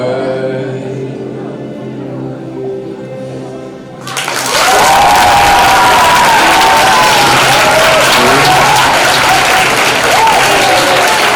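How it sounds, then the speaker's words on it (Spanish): Loud audience applause with cheering breaks out at the end of a song on a televised singing show, following a quieter musical passage, then holds as a dense, sustained roar of clapping. "Y ahí estaba el aplauso"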